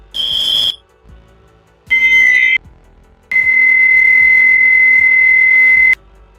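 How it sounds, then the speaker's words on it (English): A smoke alarm sound effect blares in three loud, piercing electronic bursts, two short and a final longer tone, separated by brief silences. "That was supposed to be the smoke alarm sound effect."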